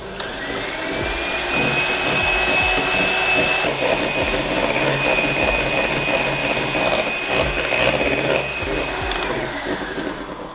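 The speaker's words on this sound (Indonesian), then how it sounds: "Aduk dengan kecepatan tinggi selama 5 menit, patokannya nanti dia akan mengembang," An electric mixer beats egg batter for a steamed chocolate sponge cake at high speed, giving a steady, close mechanical whine with faint rattling that runs unbroken throughout.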